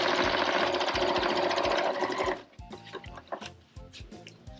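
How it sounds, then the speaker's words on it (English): A sewing machine back stitches through an old quilt, a loud rapid needle chatter for a couple of seconds, then slows into scattered, quieter separate stitches and clicks. "I'm going to back stitch at the beginning, and when I get to the handles, I am going to back stitch over those."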